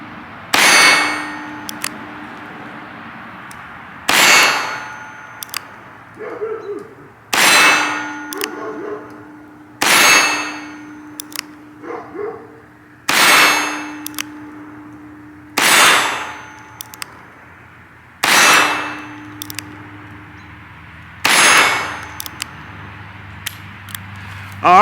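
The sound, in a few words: Charter Arms .22 revolver shots hitting a target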